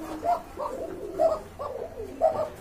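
A red indigo Rajgolla pigeon coos unprompted in three soft, rolling phrases spaced about a second apart, close by with low background noise.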